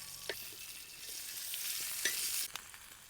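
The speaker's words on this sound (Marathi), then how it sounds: "मिरच्या चांगल्या परतून घ्यायच्या." Green chillies frying in oil with cumin seeds, a soft close sizzle with scattered pops and the scrape of stirring against the pan.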